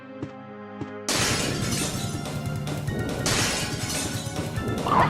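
In a Resident Evil video game, after a quiet musical hum, a glass window suddenly shatters loudly, followed by a long spray of crashing, tinkling debris and a second burst of breakage.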